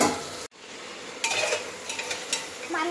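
Hot tempering spices hiss loudly as they hit a pot of chicken and rice cooked together for biryani, the sizzle cutting out briefly before returning in bright bursts with faint scraping of a spoon.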